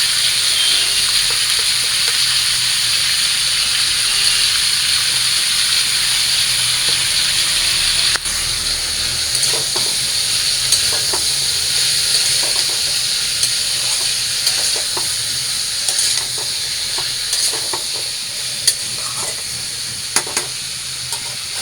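Prawns and bay leaves sizzle steadily in a hot kadai, a dense continuous frying hiss with faint stirring clicks and scrapes throughout, close and alone without talk.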